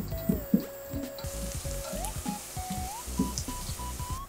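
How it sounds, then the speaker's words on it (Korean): Sliced garlic fries in oil inside a ceramic-coated pan, giving a soft steady sizzle close by with a few pops and clatters as the slices are moved. "편선 마늘을 넣어 기름에 마늘 향을 입히고요."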